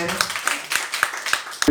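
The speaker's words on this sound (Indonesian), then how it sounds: "kasih tepuk tangan dulu untuk Bu Neri" Short burst of audience applause for Bu Neri at a meeting, a run of roughly even claps close by, with speech mixed in.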